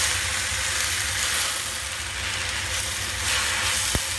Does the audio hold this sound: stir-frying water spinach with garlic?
yes